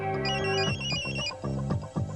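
A phone ringtone plays in a Hindi action film, a bright, melodic electronic tune repeating in short bursts, fairly loud and without any talking.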